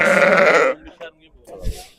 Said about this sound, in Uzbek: Katta qo'ylar ekan.